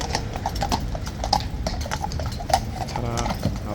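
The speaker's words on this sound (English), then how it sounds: "Other horses clippy cloppy." Horses' hooves clip-clop in a steady, uneven rhythm on hard ground at the Horse Guards, close and fairly loud with outdoor crowd murmur underneath.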